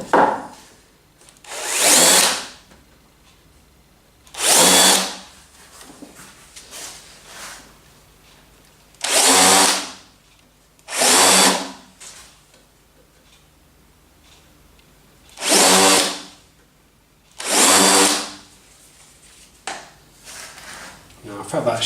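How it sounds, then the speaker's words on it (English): Drill countersinking screw holes in a wooden table frame, six short loud bursts of grinding cut into the wood, each about a second long and spaced a couple of seconds apart, close and alone between faint pauses. "first let's countersink these holes"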